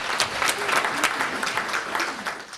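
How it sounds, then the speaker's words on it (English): A round of applause for an organizer at an evening multiple sclerosis round-table event, a steady, moderately close patter of many hands clapping with slight swells, no speech over it. "let's give a round of applause to Laura for taking care of this business tonight."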